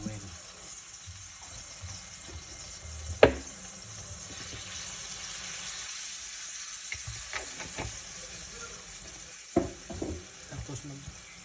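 Hot oil sizzles steadily in a pan as home cooking begins for a dinner of eggplant, a continuous soft frying hiss with a few sharper pops and clinks of utensils, fairly close.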